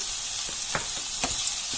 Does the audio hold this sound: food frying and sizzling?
yes